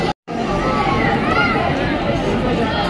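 Large crowd of devotees at the Tuljabhavani temple, a dense, steady hubbub of overlapping chatter that fills the space at close range, broken only by a brief cutout near the start.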